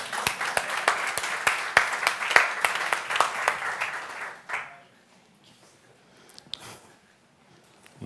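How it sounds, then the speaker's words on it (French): Conference audience clapping for latecomers, a run of sharp distinct claps over a bed of applause lasting about four seconds, then fading into a quiet room with scattered faint noises. "Et comme ils sont en retard, on va tous les applaudir."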